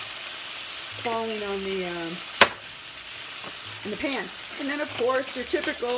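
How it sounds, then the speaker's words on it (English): Steady frying sizzle of spices and pepper for tacos in a pan runs throughout, close and crackling, while a person talks over it with a brief clatter midway. "You can hear it sizzle a little more because some of the spices are falling on in the pan."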